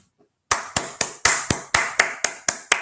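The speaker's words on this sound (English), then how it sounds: "I give you a clap for that" After a moment of quiet come about ten sharp, loud hand claps at a steady, fairly quick pace, each one crisp and close, with no talking.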